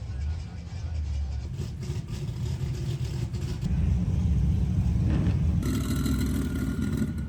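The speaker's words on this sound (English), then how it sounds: "warming up the engine" An old car engine warms up before a street race event, holding a steady low idle with a slight rise in revs partway through, close and continuous.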